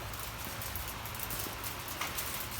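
Sleet or ice pellets falling outdoors on an Indiana winter day, a steady dense pattering and ticking across nearby surfaces, continuous and fairly faint, with no talk.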